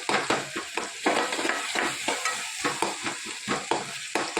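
Cumin sizzles in hot ghee and oil while dal is being tempered, with a spoon stirring in quick, regular scrapes over the steady crackle of frying close by.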